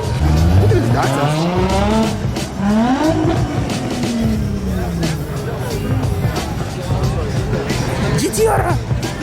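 A Nissan GT-R drives past at a cars and coffee meet, its engine rising and falling in pitch as the tires squeal loudly and close by; people talk over the noise.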